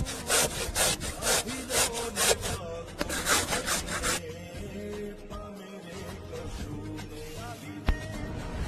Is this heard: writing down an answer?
no